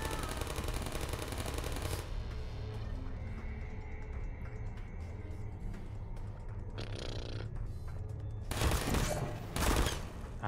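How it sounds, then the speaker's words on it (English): Portal sentry turrets open fire in bursts, a dense rattling volley running through the clip with sharper louder blasts near the end, amid game ambience and no speech. "I hate these turrets. Target locked."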